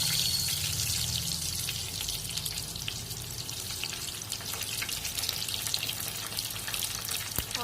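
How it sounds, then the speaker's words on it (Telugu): Onions fry in hot oil alongside urad dal, chana dal, cumin and mustard seeds, giving a steady, close sizzle that hisses and crackles evenly throughout with no voices. "ఆనియన్స్ బ్రౌన్ కలర్ వచ్చే వరకు వేయించుకోవాలి."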